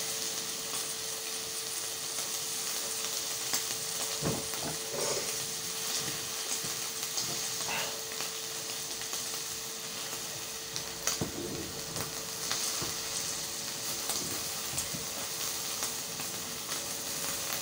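Food sizzling in butter in a pan, a steady crackling hiss with occasional louder pops, close and continuous with no talk.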